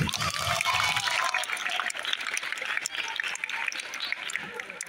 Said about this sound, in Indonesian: Tepuk tangan buat adik-adik